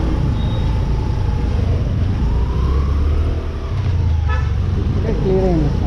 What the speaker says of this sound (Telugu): ట్రాఫిక్ మాత్రం భయంకరంగా ఉంది సార్.